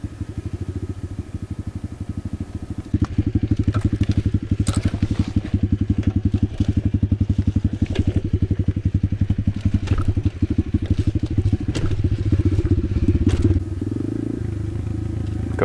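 An Apollo RFZ 125cc pit bike engine putters along single-track enduro trails, a steady close throbbing note that grows louder and busier in the middle as the bike works over rough ground.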